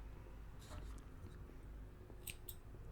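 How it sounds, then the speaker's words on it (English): Scissors snipping knitting yarn after finishing a stitch on a knitted corset crop top, a couple of quick, faint close clicks over a low background hum. "and then I'm going to cut my yarn"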